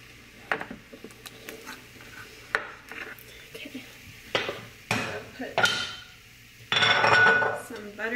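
Clinks and knocks of a plate and dishes being handled in a home kitchen, with scattered sharp taps and scrapes and a louder clattering burst near the end.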